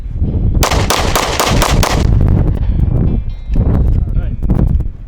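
Loud, close pistol shots in 5.7 NATO crack off in a fast string of about half a dozen during a timed shooting drill, followed by fainter scattered reports and outdoor wind noise.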